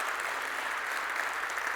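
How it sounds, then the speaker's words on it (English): An audience at a Chamber of Commerce event claps steadily, a dense, even wash of applause throughout, moderately distant and without voices. "Let's give a round of applause and a welcome to the Chamber of Commerce and the entire team that brought us in today"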